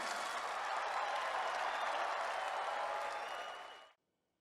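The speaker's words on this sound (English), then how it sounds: "start clapping right quick" Dense audience clapping at a business event, loud and sustained for several seconds before cutting off sharply into silence.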